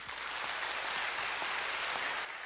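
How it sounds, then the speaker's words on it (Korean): An auditorium audience at BEXCO in Busan applauds, a dense, even burst of clapping that holds steady for a couple of seconds before fading slightly at the end. "정말 소중한 말씀 박수 한 번 더 부탁드리겠습니다."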